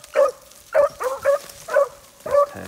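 Beagle hounds baying at a Laurel Sportsman Beagle Club field trial for 13-inch females, a red tick among them, giving about six sharp, evenly spaced barks at moderate distance with quiet gaps between.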